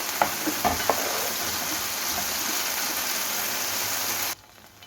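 Chicken pieces frying in a pan give a steady, loud broadband sizzle, with a few sharp pops near the start, before the sound cuts off abruptly near the end.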